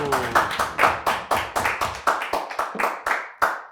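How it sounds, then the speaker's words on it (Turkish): A studio audience claps at a Turkish comedy talk show, a loud, close run of uneven hand claps and short applause bursts with no talk over it. "Hala alkışlıyorsunuz he? Utanmadan bir de alkışlıyor musunuz?"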